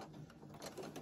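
A sewing machine runs steadily while back stitching on a hooded towel or bath mitt, a close, continuous mechanical whir and rattle with slight pulses in speed.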